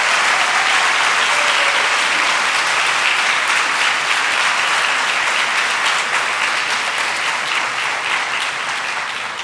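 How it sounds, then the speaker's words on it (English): Steady, dense applause from a seated audience at a school talk event, sustained and fairly loud throughout with no speech over it, tapering slightly at the end. "So I think they deserve a hearty round of applause."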